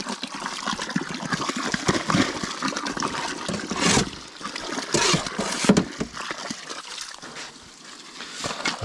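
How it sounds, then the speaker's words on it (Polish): Water is poured onto sand packed around a fence post anchor, splashing and trickling unevenly in close, rushing bursts with short pauses as the sand soaks it up. "Słupek obsypiany piaskiem, zlany wodą."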